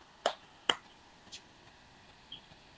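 Two sharp, distinct hand claps sound close together, followed by a couple of fainter ticks, in a quiet online meeting setting, crisp and isolated against low background noise.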